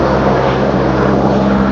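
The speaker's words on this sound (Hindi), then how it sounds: "ये देखो भाई हेलीकॉप्टर जा रहा है" Steady, loud rotor and engine drone of a helicopter flying past outside a hotel beside a helipad on the Kedarnath route, a continuous low hum with no voices.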